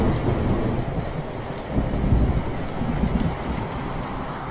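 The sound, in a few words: heavy rain with hail falling, thunderstorm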